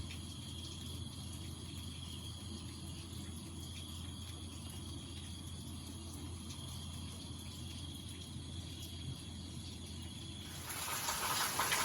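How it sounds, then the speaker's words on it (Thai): Rain falls steadily, a soft continuous hiss over a low hum, growing brighter and louder in the final seconds. "บรรยากาศฝนตก"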